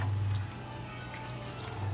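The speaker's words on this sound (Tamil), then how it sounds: "இது முழுகிற அளவுக்கு நம்ம தண்ணி ஊற்றிக்குவோம்." Water poured into a cooking pan with prawns and potatoes for a Tamil prawn fry, a steady splashing gush with a low hum, fairly close and without talk.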